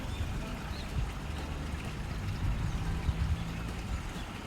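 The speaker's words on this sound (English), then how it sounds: "water is flowing in. You can hear that water." Tide water flowing into a channel through sluice gates on the East Coast of Demerara, a continuous rushing and gurgling that stays steady and moderately loud throughout.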